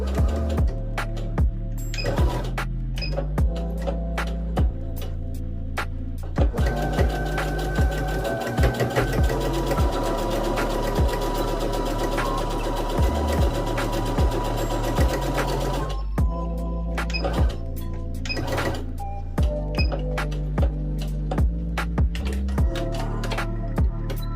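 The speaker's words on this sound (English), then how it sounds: "now it's time to take it to the sewing machine, and we're going to use a straight stitch all the way around" A sewing machine runs a straight stitch around an elastic-waist maxi skirt, whirring in long continuous bursts broken by brief stops and mechanical clicks, close and loud.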